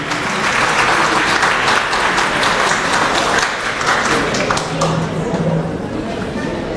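Sustained, dense crowd applause fills a hall at the Dakar international literature festival, honoring Professor Massamba Gueye, a poet and storyteller, after his inaugural lecture; a voice briefly surfaces near the end.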